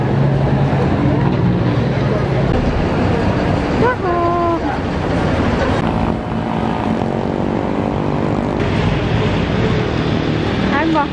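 Busy terminal ambience with a steady roar of engine noise, passing vehicles and overlapping voices of people talking nearby throughout.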